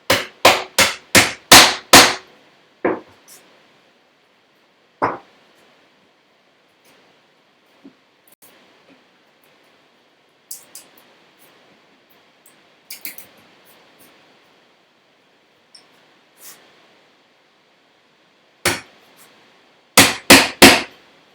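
A chisel struck with a mallet while cutting a tusk tenon in a woodworking shop: a quick burst of sharp, loud knocks, then scattered single taps, then another rapid cluster of blows, with no talking.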